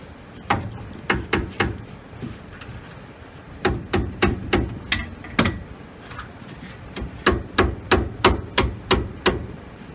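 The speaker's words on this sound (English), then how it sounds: "little mallet persuasion here so I can get the bolt out" Small mallet tapping a shock absorber bolt out on a 1976 Corvette Stingray, a series of sharp close knocks in quick clusters with brief gaps, no talking.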